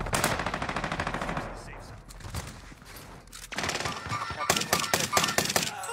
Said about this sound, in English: shooting that musket at him